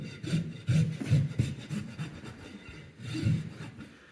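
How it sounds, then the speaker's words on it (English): Smooth side of a farrier's rasp filing a trimmed horse hoof, steady rhythmic rubbing strokes rasping close by, repeated back and forth with brief pauses, no talk. "my smooth side of my rasp, I'm going to clean that up, following the angle that I trimmed"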